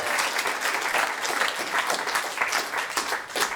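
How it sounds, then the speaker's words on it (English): A comedy club crowd breaks into sustained applause, a full, lively roar of many hands clapping steadily and fairly close for several seconds. "Just by a round of applause, who here is sick of doing surveys?"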